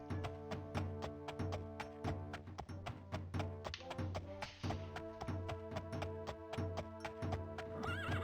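A horse in the 1996 PC game The Elder Scrolls II: Daggerfall neighs while its hooves clip-clop in a steady, rhythmic gait through a city, loud and close, with no talking.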